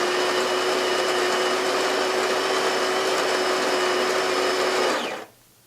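A DeLonghi GranDama 6700 superautomatic espresso machine grinds coffee beans with a steady, loud mechanical whir for several seconds, then cuts off abruptly into near silence.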